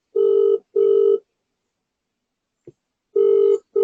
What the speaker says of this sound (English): Can you pick up the phone?